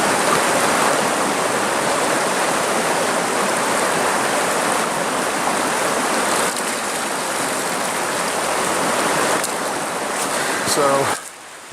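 A river's rushing water flows continuously and loudly, a dense broadband wash that cuts off abruptly near the end.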